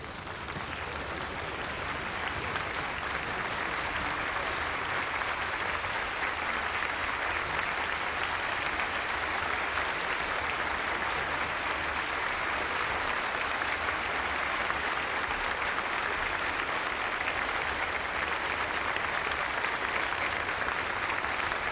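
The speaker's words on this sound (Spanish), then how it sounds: "Aplauso" Sustained applause from a theater audience at the 1985 Princess of Asturias Awards ceremony in the Teatro Campoamor, a steady dense wash of clapping that holds evenly for over twenty seconds with no voices.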